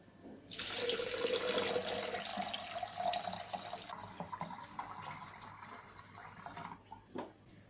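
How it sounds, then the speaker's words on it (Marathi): Cold water from a fridge pours steadily into a ginger-lemon drink, a continuous splashing rush that gradually thins out near the end, with a few faint drips and clinks. "आता यामध्ये आपण फ्रीज मधलं थंडगार पाणी घालायचं आहे"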